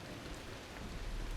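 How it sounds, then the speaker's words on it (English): Steady rain falls in the ocean survival video game The Last Caretaker, a dense continuous hiss with scattered droplet patter, moderately quiet and alone. "Oh, it's raining now as well."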